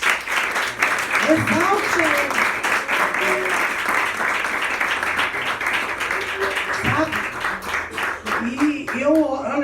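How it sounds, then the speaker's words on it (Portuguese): A congregation claps during an evangelical church campaign service. Steady, dense applause runs throughout beneath a preacher's loud amplified voice. "Aplauda ele"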